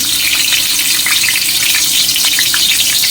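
Ginger and Sichuan pepper frying in hot oil for spicy Sichuan pepper chicken, a loud, steady, close sizzle with crackling pops throughout and no voices.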